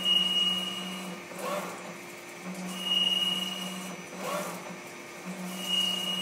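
A machine cutting a thread and running in reverse, heard as a steady motor whir with a high tone that pulses on and off in a repeating cycle of about three cuts, close and moderately loud.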